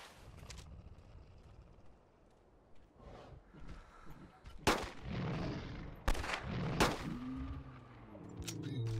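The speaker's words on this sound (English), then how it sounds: "so that was 3 shots just on the trike" Revolver fire in the dinosaur-hunting game Carnivores Dinosaur Hunt: three sharp, loud shots spaced about a second apart over a low ambient game background.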